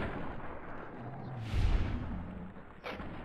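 Gunfire aimed at a giant in power armor in Fallout New Vegas: muffled, distant shots and a low thudding boom rise briefly out of a steady background rumble, then one more short burst near the end.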